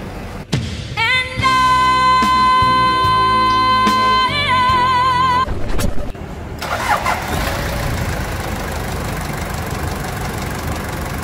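A Toyota Land Cruiser Prado fitted with a Hilux engine runs close by, with a tonal hum and a steady engine rumble. The sound shifts partway through into broader, noisier engine running that continues to the end.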